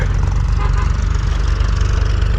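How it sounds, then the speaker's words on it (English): A loud, low tractor engine drones steadily close by at a house construction site, a heavy rumbling chug with no break. "there's a tractor coming"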